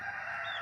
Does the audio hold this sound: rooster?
yes